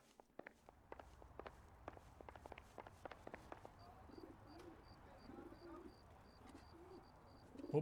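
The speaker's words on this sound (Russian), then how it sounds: "Опа, голубь." Pigeon cooing in the video game L.A. Noire, a few soft low coos in the second half of the clip, behind footsteps and light bird chirps with a steady faint tone above.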